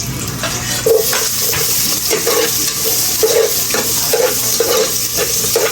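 Garlic sautés in a hot pan with a loud, close, continuous sizzle, punctuated by regular scraping stirs of a utensil against the pan.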